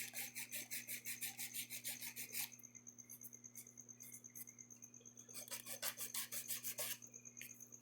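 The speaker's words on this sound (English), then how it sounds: "And you just keep filing until they have the same shape." Rapid back-and-forth rasping of a nail file shaping acrylic nails, quiet and close, coming in steady bursts with a pause in the middle before the strokes resume, alone with no talk over a faint steady hum.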